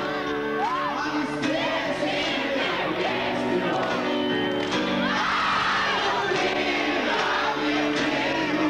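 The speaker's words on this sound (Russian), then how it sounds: "Толпа бесновалась и ревела." A concert crowd at a show in a circus venue in Krasnoyarsk, 1997, roars loudly and without a break, with shouts and whoops mixed into the sustained din.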